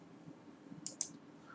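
A pair of quick mouse clicks while working in Lumion 3D software, close and crisp against a faint, quiet room hum.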